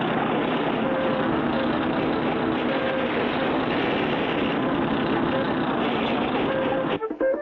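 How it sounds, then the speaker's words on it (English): Cartoon bulldozer engine pushing oily sand, a steady loud mechanical drone that holds unbroken for about seven seconds before cutting off abruptly at the end. "We'll use this as a bulldozer to push the oily sand back."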